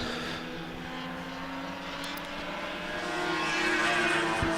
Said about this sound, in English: lovely little motor vehicle, the TR6s. They sound glorious too as they sail past.